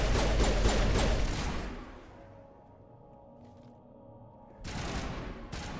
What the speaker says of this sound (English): Ah, yes, grenades.